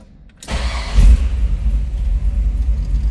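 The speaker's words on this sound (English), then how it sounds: "we're going to fire this up. Let you hear it run" A 1934 Ford Deluxe three-window coupe street rod fires up after a brief crank, its engine catching with a loud burst and then settling into a deep, steady, rumbling idle close by.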